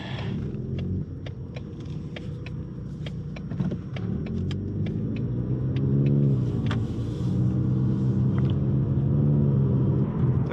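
A 2020 Ford Mustang EcoBoost HPP with its 2.3-litre engine driving and revving with the windows down, heard as a steady mid-pitched engine drone rising under acceleration, with sharp clicks and rattles over it and no talk.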